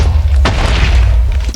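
A loud, deep video game explosion booms in a sewer tunnel and rumbles on for about a second before fading, with no talking.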